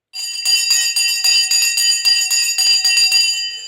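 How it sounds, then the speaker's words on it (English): A loud electric bell marks the stock market opening, ringing continuously in rapid rhythmic pulses for several seconds with a bright metallic tone and no voices over it. "The bell is off."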